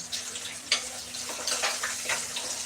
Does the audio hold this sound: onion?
yes